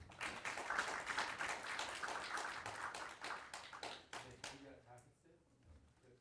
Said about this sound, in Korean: 격려 의미로 한 박수 한번 치시죠